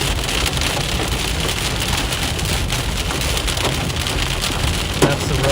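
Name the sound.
hail falling during a storm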